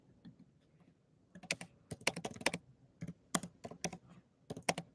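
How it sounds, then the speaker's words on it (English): Keys clatter on a computer keyboard as an email address is typed out, in quick irregular bursts of close, crisp clicks separated by short pauses, with no voices. "I'll post my email here. I'm just going to type it out."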